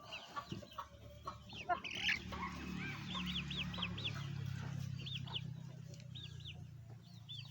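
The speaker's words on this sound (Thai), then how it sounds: "ไก่พันธุ์ผสมนะครับ หลายหลายอย่าง" Mixed-breed chickens in a farmyard pen cluck softly at middle distance, with repeated short calls over a low background rumble.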